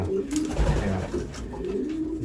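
Racing pigeons cooing in a loft, soft low throaty coos repeating close by over a steady background murmur, with a person talking faintly.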